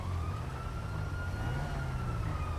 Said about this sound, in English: Oh, I'm hearing some sirens.